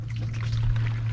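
Water-soluble fertilizer solution poured from a container onto shredded cardboard mulch around young fig plants, a steady continuous pour with a low hum underneath, close and moderately loud.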